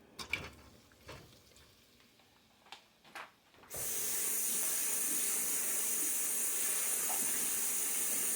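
Shrimp dropped into hot oil in a pan set off a sudden loud, steady sizzle that runs on unbroken, after a few quieter clinks and light handling noises.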